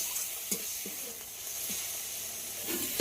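Garlic paste and green chillies frying with tomatoes in a hot pan give a continuous, even sizzle with a few soft clicks and stirs scattered through, close-up and steady, with no voices.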